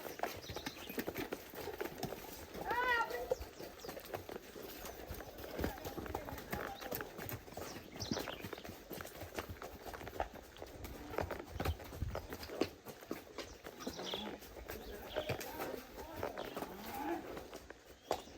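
A horse gallops on a park track at Parque Guarani, its hoofbeats clip-clopping steadily throughout amid outdoor crowd noise and voices talking nearby.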